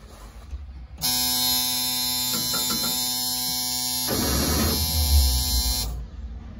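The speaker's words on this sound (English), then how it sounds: "see if we can get this thing to crank and fire up" A V8 Cummins engine in a Trojan turning over on its starter gives a loud, steady, buzzing whine for about five seconds, with a rougher burst near the end before it cuts off.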